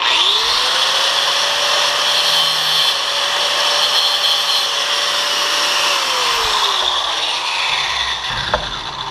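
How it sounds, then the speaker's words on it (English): Stainless steel pins on a bowfishing reel seat being ground off with a power grinder, a loud continuous whine that holds steady for most of the stretch, then drops in pitch and cuts out near the end with a short clunk. "all we have to do now to this is grind our stainless steel pins off"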